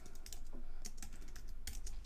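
Keys clatter on a computer keyboard in quick irregular bursts of clicks, close and fairly quiet, with no one speaking.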